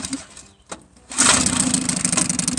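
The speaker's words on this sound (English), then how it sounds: "It's cold, so I'm going to choke it. Hit fire. Yeah, you got a little sputter." A cold Johnson 3hp Sea-Horse outboard motor, choked, sputters to life after a short quiet pause, then keeps running loud and rough close by.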